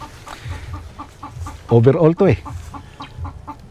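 Chickens clucking and calling on a Philippine farm, a repeated soft rhythm of short clucks throughout, with a louder bird call or crow briefly in the middle and a voice speaking faintly in the background.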